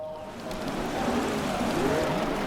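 Steady rain hiss in the racing game Project CARS, a dense even wash of drops that holds at a constant level, with a faint engine drone running underneath and no voices.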